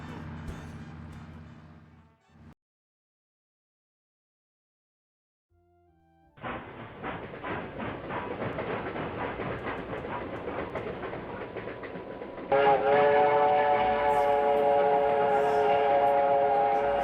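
A train rumbles steadily along the tracks after a short silence, with a brief voice at the start and a louder, brighter rolling rattle later on.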